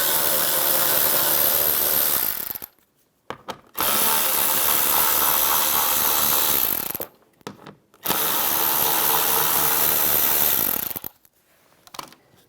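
A power drill with a 7mm socket backs screws out of a 2007-2013 Chevrolet Silverado door panel, three loud, close whirring bursts of a few seconds each separated by short pauses.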